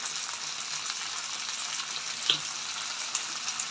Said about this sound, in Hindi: भिंडी को फ्राई कर रही हूँ।